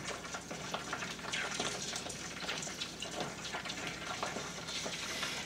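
Melted lard pours into jars through a screen and cheesecloth, a faint continuous trickling and splashing with small crackles, close up and with no talking.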